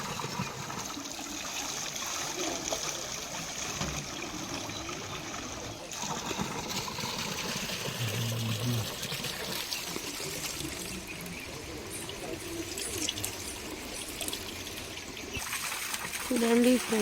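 Spring water trickles and pours from a rock crevice at Chilakala Gutta near Medaram, a steady outdoor wash of flowing water with voices and crowd noise mixed in.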